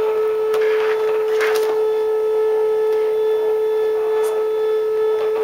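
Cricut cutting machine powering on and running, a steady mechanical hum with a constant whining tone and a few short clicks and whirs, heard alone.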